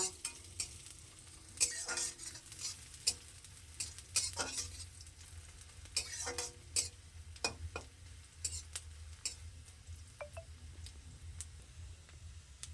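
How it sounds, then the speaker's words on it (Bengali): Chilli, garlic and ginger pastes fry with browned onions in a home kitchen pan, giving a steady low sizzle broken by repeated scraping stirs and occasional utensil clinks, close and moderately loud, with no talking. "এখন দিব লঙ্কা বাটা রসুন বাটা লঙ্কা বাটা আদা বাটা"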